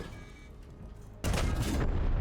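A tank cannon shot in the World of Tanks video game: one sudden, loud blast that roars for about half a second and then drops away, with no talk over it.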